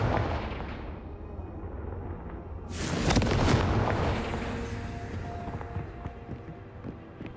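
Confringo fire spells blasting in Hogwarts Legacy, a sharp burst of explosion around the middle rising over a rumbling battle bed, followed by smaller crackling impacts, fairly loud and without speech.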